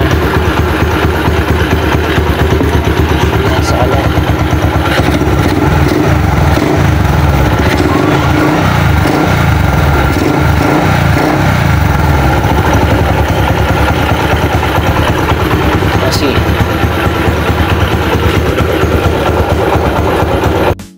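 A motorcycle engine being flushed with used oil runs steadily and loudly throughout, its idle chugging with a rough, pulsing rhythm and no voices.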